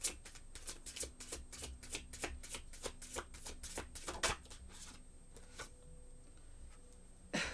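Playing cards being shuffled close up, a rapid flurry of crisp riffling flicks that repeats for several seconds before trailing off into a few softer handling sounds.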